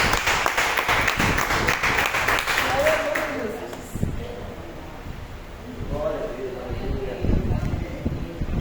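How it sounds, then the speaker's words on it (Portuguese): A church congregation in a Portuguese-language evening service gives a hearty round of applause, dense clapping for about three seconds that thins out as voices and crowd noise continue. "Vamos receber o servo de Deus com uma forte salva de palmas para Deus"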